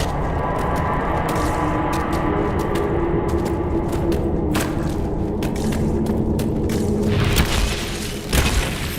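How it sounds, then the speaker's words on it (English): Explosion in the video game Dragon Age: Inquisition (Trespasser DLC): a loud, sustained booming roar filling the scene, with rumbling debris and a final heavier thump near the end. "Explode por lá."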